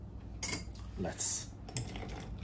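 Ice cubes and a spoon clink against a glass as a White Russian cocktail is stirred, several sharp chinks and rattles close by, with faint background talk.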